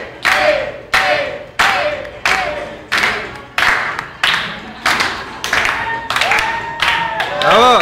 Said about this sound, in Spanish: Aplaudan, güey, aplaudan, Víctor.